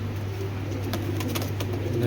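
Red checker racer pigeons cooing nearby, soft low coos over a steady hum, with faint brief flutters.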